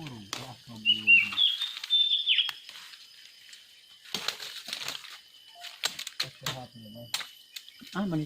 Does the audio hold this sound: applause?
no